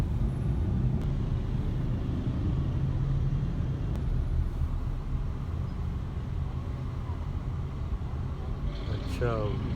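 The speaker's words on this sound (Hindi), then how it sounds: "बीच बीच में ट्रैफिक भी है" Street traffic rumbling steadily along a city street beside a bank, a continuous low roadway drone throughout with a faint hiss and a brief higher squeal near the end.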